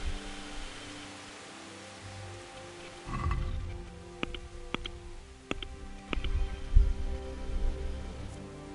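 Steady rain hissing over the outdoor world of the video game Kingdom Come: Deliverance, a soft constant wash with sparse sharp ticks of drops and a few brief thumps, low-level and continuous throughout.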